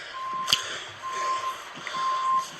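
Reversing beeps from a fire truck at a scene with a gate, steady repeated tones over a low idling engine, moderately distant, with faint voices in the background.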